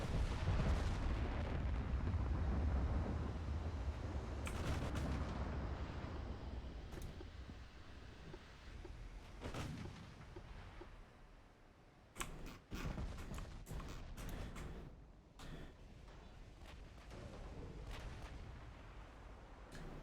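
Naval gunfire from battleships in Ultimate Admiral: Dreadnoughts: deep booming salvos and distant shell explosions roll out at long range, followed by a string of sharper, scattered reports, with no talking over them.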